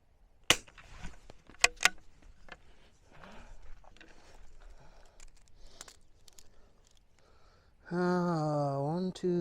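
Rifle shots fired at a 100-yard target in a positional shooting drill, heard as a few sharp, loud cracks spaced apart early on, followed by a sustained harmonic whine near the end.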